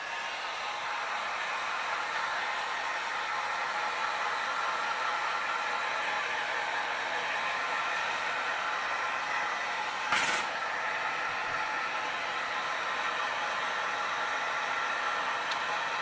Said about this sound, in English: we need our heat gun.